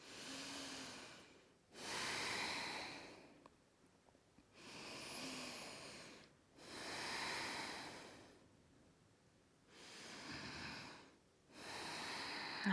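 Slow, deep breaths during a held yoga pose, six long airy inhales and exhales in steady alternation with short pauses between, close and clear with no talking.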